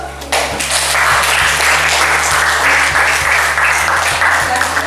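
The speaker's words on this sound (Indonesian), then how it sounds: "Beri aplaus." An audience bursts into sustained, dense applause in a classroom or meeting hall after a group presentation on academic supervision coaching, a steady wash of many hands clapping for nearly five seconds, loud and close, with a low mains hum underneath.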